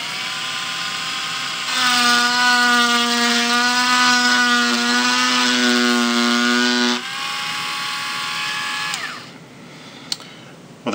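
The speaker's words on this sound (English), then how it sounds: "I'm going to turn on the handpiece and just make a few marks to give you an idea what it'll do." A hand engraver handpiece fitted with a diamond point runs with a steady high-pitched motor whine, rising to a louder, harmonic-rich buzz for several seconds while marking, then dropping back before switching off.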